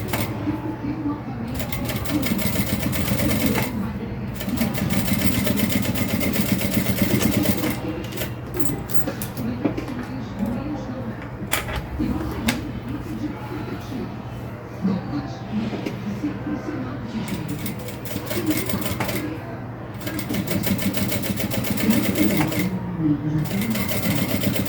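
A home sewing machine stitching a shoulder bag, starting with a backstitch at stitch setting 5, runs in rapid mechanical bursts separated by short pauses, close and loud, with someone talking over parts of it.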